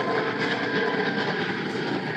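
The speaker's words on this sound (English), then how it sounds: "The roar of these airplanes leaving LaGuardia Airport isn't the only noisy nuisance" A steady, broad jet roar from airplanes departing LaGuardia Airport, heard from a parking lot in College Point, holding constant and loud without breaks.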